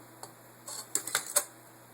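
An Akai M5 reel-to-reel tape recorder runs at 15 inches per second, giving a steady low mechanical hum broken by a handful of sharp, close clicks and ticks.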